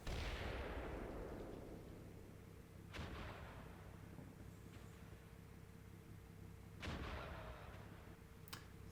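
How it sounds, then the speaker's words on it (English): Mortar fire in the Cold War wargame Combat Mission Cold War, with a loud opening blast fading out, then two more sharp impacts roughly four seconds apart and a faint crack near the end, over a low steady battlefield rumble. "Our scout teams on the scrubby knoll come under mortar fire"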